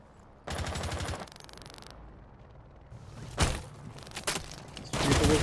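Automatic gunfire rattles in a Rainbow Six Siege collegiate match between Marietta College and Drexel University: a loud sustained burst, then a pause, then several shorter sharp volleys, the last one loud and close.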